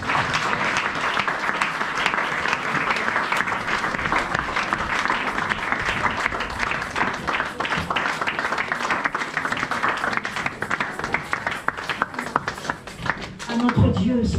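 A church congregation in Toulouse applauds and cheers for the Lord, steady loud clapping from a crowd sustained throughout with voices mixed in.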